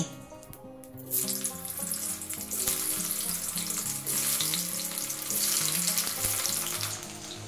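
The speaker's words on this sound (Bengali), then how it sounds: "এবারে আলুটা একটু ভেজে নেব।" Potatoes sizzle steadily in hot mustard oil in a pan, a loud continuous frying hiss, with clinks and faint stirring noises and a musical bed running underneath.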